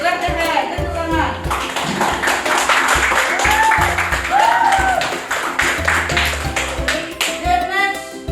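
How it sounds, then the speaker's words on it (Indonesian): A class claps hands in a classroom lesson, fairly close, mixed with rhythmic taps, speech and children's voices throughout. "Clap the hand, tepuk tangan."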